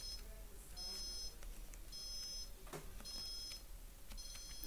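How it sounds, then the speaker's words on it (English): Repeated beeping of a digital alarm clock going off in a quiet room, bursts of high electronic tones recurring roughly every second and a half, with faint background noise. "a couple of minutes to go or so before the alarm goes off"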